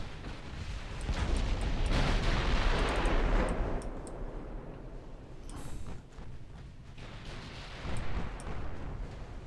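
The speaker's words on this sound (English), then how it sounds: "big hit with the 8-inch guns there" Heavy naval gunfire from 8-inch guns in the naval battle game Ultimate Admiral: Dreadnoughts, a loud sustained roar of blasts and rumbling impacts that swells early, eases off, then rises again near the end.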